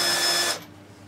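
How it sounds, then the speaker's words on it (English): A drill runs with a 3mm cobalt bit, boring a hole while fitting an Incra table saw fence to a Bosch PTS 10 saw; a loud, close, whining motor for about half a second, then cuts off and fades into quiet. "we're going to use a 3mm cobalt drill bit to drill the initial hole"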